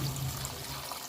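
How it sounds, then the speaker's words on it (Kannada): Hot water pours into a cooking pot of soaked rice for egg biryani, a steady close splashing rush that fills the whole brief moment with no talk. "ನೀರು ಹಾಕೋಣ"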